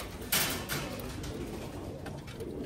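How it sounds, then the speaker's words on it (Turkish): Crested pigeons coo softly outdoors, a few low, gentle calls set against steady background noise with no talking. "Burada böyle çok güzel yine öyle perçemlilerimiz vardır."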